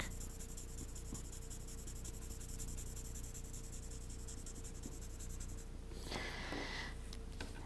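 Pencil shading on paper, blended with a tortillon, a soft continuous scratchy rubbing up close, ending in a brief louder scrape.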